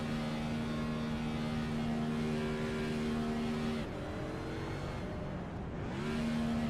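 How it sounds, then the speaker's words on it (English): A race car idles and revs on pit road in a stock car racing video game at Talladega, a steady droning engine tone that dips and climbs again as the throttle is blipped, continuous and fairly close without talk. "you could hear him revving up the engine, leaving first gear there, trying to burn some excess fuel"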